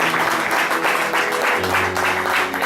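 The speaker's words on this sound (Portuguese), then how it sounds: "Vamos dar uma salva de palmas para Jesus aí." Continuous applause from a crowd filling a church, dense and even throughout with a steady hum beneath.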